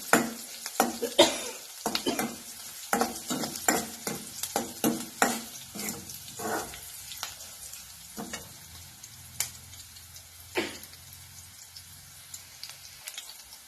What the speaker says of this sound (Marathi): मिरची चांगली भाजी द्या